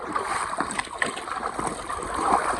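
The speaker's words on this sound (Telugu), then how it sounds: "చూడండి మేమైతే నీళ్ళల్లోనే నడుస్తున్నాం" Trekkers wade and step through a clear, shallow stream on a long forest trek, feet splashing and water gurgling around them in steady close-up sloshes.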